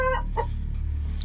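A chicken gives a few short, close clucks over a steady low background hum.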